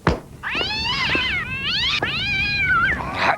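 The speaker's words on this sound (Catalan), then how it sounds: "He salvat el seu gat." A cartoon cat meows in a Catalan-dubbed Simpsons episode: a couple of drawn-out, wavering meows, close and clear, following a short sharp noise at the start.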